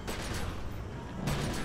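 Gunfire in The Secret World video game, a dense burst of rapid shots at steady loudness lasting under two seconds, close and continuous.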